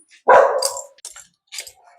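A dog barks sharply once up close near a housing block, then gives a few softer, shorter yips and whimpers.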